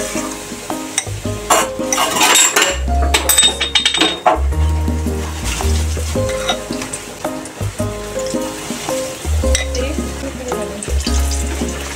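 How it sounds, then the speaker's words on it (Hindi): Egg chops dipped in gram flour batter frying in hot oil, a steady crackling sizzle running throughout with a few clinks of utensils and a low background tone. "हम इस तरह से बेसन में एक एक करके डिप करेंगे और इसे गर्म तेल में डाल देंगे"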